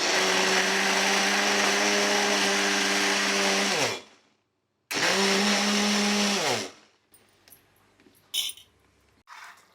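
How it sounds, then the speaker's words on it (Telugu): A kitchen mixer grinder purees boiled chickpeas into a smooth paste for a curry, whirring loudly and steadily in two long bursts with a short pause between, then stopping and leaving faint clinks. "ఇప్పుడేమో ఇవి మెత్తగా పేస్ట్ చేస్తుంది అనమాట"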